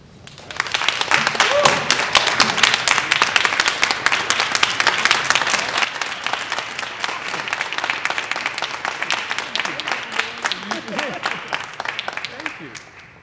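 Sustained audience applause for a senator at an Urban League annual meeting in Wilmington, dense steady clapping from a large crowd lasting many seconds before tapering off.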